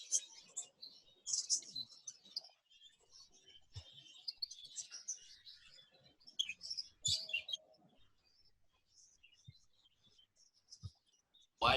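Baby budgies in an exhibition budgie aviary give high, thin chirps and tweets in scattered bursts, with a few soft clicks and knocks between them.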